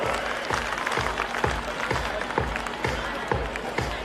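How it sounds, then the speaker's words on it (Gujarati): Parents clapping at a school annual concert and prize ceremony, steady mixed applause from a crowd filling the whole stretch, with faint voices underneath. "પેરેન્ટ્સ થોડી તાળીઓ પાડો."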